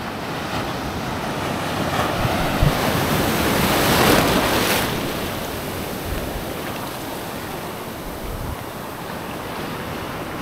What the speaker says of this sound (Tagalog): Laki ng mga alon, no?